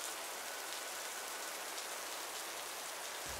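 Steady rain falls on a rainy Monday, a dense even hiss of drops on surfaces with no other sounds, continuous and close.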